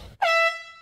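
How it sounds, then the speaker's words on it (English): A single loud air horn blast from a prank, starting abruptly after a brief low rumble and holding a steady blaring tone for about half a second before fading slightly. "Oh, it was an air horn."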